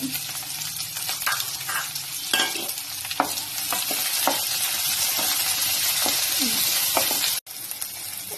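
Small shallots and curry leaves sauté for a crab fry, sizzling loudly and continuously in oil as a spoon stirs with scattered scraping strokes against the pan.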